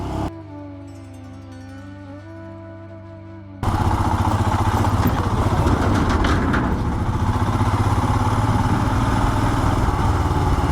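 A motorcycle on a road trip to Shakumbhari Devi temple near Saharanpur first idles with a steady low putter, then its engine opens into a loud, continuous close-up roar as it rides along the road.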